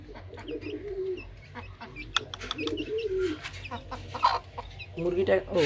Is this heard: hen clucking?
yes